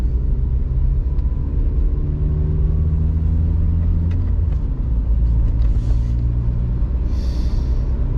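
A 2002-2008 Toyota Corolla with a manual gearbox, driven as a winter car on winter tires, rumbles steadily from inside the cabin. The low engine and road drone stays loud and even throughout, with faint clicks near the end.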